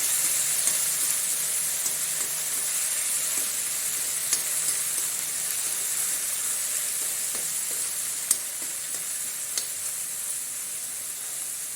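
Cabbage frying in a pan for a cabbage curry, a steady close sizzle and hiss that runs throughout, broken by occasional sharp clicks from stirring.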